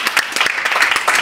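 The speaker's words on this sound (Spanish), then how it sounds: "Venga, un aplauso para Lili Stecker" Audience applause on a Spanish entertainment show, steady dense clapping that fills the short moment at a loud, even level with no voices over it.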